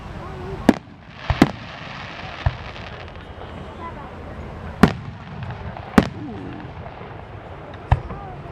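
Fireworks bursting at the Lancaster hot air balloon festival, six sharp cracks spaced irregularly over several seconds, fairly close, over outdoor crowd ambience.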